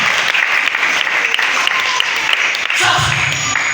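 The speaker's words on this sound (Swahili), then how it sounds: "Piga makofi kwa Yesu." Congregation clapping in praise of Jesus during a Swahili church sermon, a dense steady wash of applause held throughout with murmured voices underneath.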